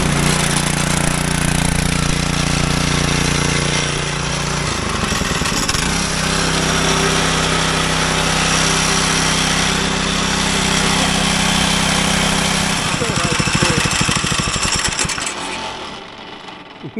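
A small single-cylinder engine on a homemade 1920s-style go-kart is started and runs with a steady loud buzzing drone that wavers in pitch, then cuts out near the end.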